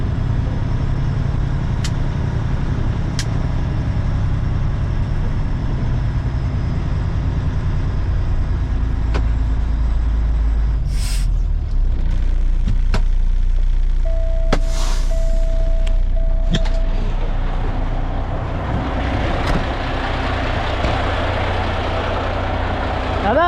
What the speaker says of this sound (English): Now that's a truck.